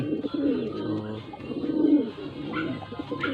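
Racing pigeons at a loft during race training coo in low, throaty, repeated rolling calls, close by and continuous, with a few faint chirps in the background.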